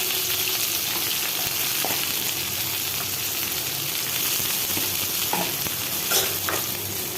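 Large thick-cut prawn pieces fry in a hot pan with a steady, dense sizzle that holds evenly throughout, broken by a few faint scrapes of stirring and no voices.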